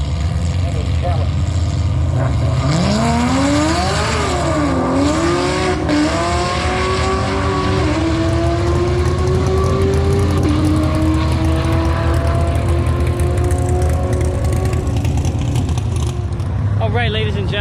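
A 2016 Chevrolet C7 Corvette with a 6.2-liter engine does a burnout at a race track, its loud, close engine climbing and wavering in pitch over a roar of tire spin before settling to a steady drone.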